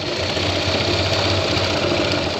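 A sewing machine runs at a steady, even pace while stitching a shirt seam, giving a continuous close mechanical whir with no pauses and no talking.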